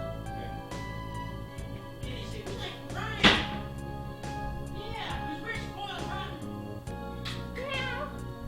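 Several house cats meow repeatedly at feeding time, close by, with a sharp thunk partway through and a person talking in between over a steady background hum.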